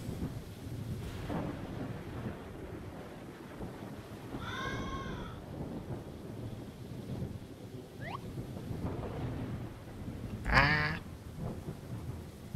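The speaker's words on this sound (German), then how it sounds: "Anscheinend haben wir ein Gewitter." Thunderstorm at night during a house power outage: steady rain and low wind rumble throughout, with distant thunder rolls, a couple of brief tonal whistles in between and a sharp louder burst toward the end.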